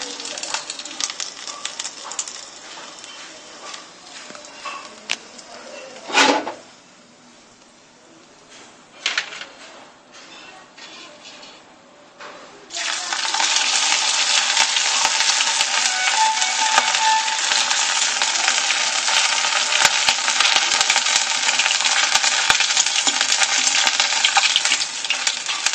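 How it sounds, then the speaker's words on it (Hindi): Rice papad frying in hot oil in a pan: a quiet patchy sizzle with a few sharp clatters early on, then a loud steady hiss and crackle that carries on without break to the end. "हमें जो सभी पापड़ है उन्हें फ्राई करना है।"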